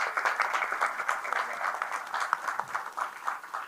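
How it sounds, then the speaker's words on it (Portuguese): An audience applauds at a literary talk in Brazil, a steady, dense patter of many hands clapping throughout, moderately distant and without voices over it. "Palmas."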